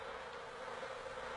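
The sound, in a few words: scout bees buzzing at the hive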